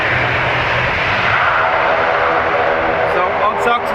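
A Luxair airliner in special livery roars in to land at Dublin Airport, a loud broad engine rumble and whine filling the scene throughout, with someone speaking over it.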